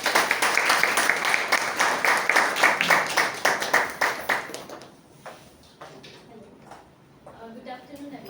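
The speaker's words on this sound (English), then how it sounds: "Huge round of applause for her." Applause for a guest at a club meeting: a small group clapping in close, steady rhythm, fading after about five seconds into a few scattered claps, with voices talking softly underneath toward the end.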